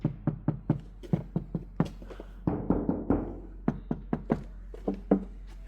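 Knuckles rap on a hollow door panel of a Fox-body Ford Mustang in a series of sharp, resonant knocks, some quick and clustered, with a short louder rumbling stretch midway.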